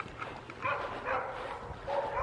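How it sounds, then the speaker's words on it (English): Neighborhood dogs barking along a wooded path at dusk, several yips and barks coming in bursts at moderate distance over faint background noise. "My neighbor's dogs bark at me when I go by there."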